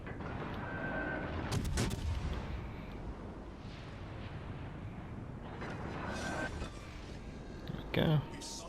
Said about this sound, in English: Chapayev is firing AP at me, which is quite unusual